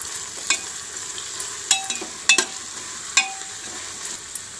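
Roughly sliced onions, 250 grams, fry in a pressure cooker while being stirred, a soft continuous sizzle punctuated by several sharp scraping clicks of the spoon, fairly quiet and alone.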